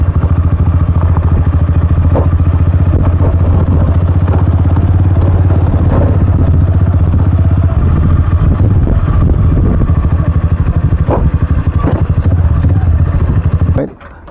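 Motorcycle engine running steadily and loud throughout while riding on a road to Hagakhak in Makato, Aklan, with some clatter, cutting off abruptly near the end.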